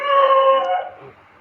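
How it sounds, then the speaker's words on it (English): A dog howls in a single drawn-out, wavering tone on a Cambodian street during Khmer New Year festivities, close and fairly loud, fading out after about a second. "barking dogs"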